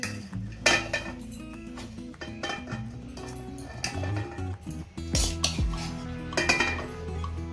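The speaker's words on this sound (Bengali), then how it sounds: "এই লাস্ট চিকেনের লেগ পিসগুলো এবার দিয়ে দিচ্ছি।" Chicken leg pieces being added to a biryani pot, with irregular clanks and scrapes of a spoon against metal cookware, close and moderately loud, with no talking.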